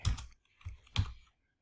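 Clacks on a computer keyboard, three quick separate key strikes close up in a quiet room, sharp and dry with brief gaps between them.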